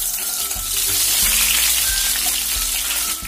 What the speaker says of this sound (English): saute until the potatoes are slightly colored